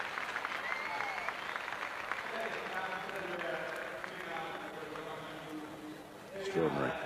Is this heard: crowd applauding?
yes